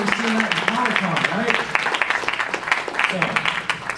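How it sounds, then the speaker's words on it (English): Audience clapping at a Godzilla fan convention panel, a dense run of applause heard throughout under a voice speaking over it. "give him another round of applause"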